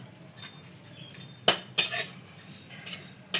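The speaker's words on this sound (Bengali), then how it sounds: "তিলটাকে আগে ভেজে নেব।" A spoon knocks and scrapes sharply against a pan while sesame seeds are dry-roasted and stirred for sweet nadu, with several distinct clinks in otherwise quiet surroundings.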